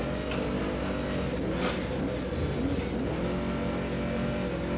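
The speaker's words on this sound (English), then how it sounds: "The poor spec truck, we're just wringing its neck." A spec race truck's engine screams at high revs under full throttle, a continuous loud, strained roar with no letup.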